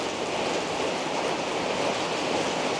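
Heavy rain storm pouring down on a lemon farm in Thailand, a dense, steady broadband roar of falling rain that stays loud and unbroken throughout, with no voices.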